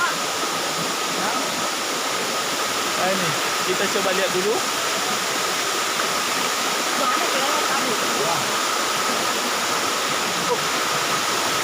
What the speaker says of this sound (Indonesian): ini kita berada di air terjun Paradaya